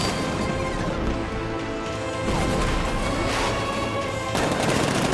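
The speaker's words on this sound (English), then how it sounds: "60mm cannon operational." A tank's 60mm cannon firing in the video game Batman: Arkham Knight, dense repeated blasts and crashing impacts layered over a continuous loud game soundscape.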